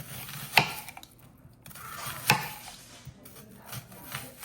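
A knife slicing onions into rounds for Jamaican fried yellowtail snapper, with two or three crisp cuts landing on a board at uneven intervals and soft rubbing in between, close and fairly quiet, with no talking.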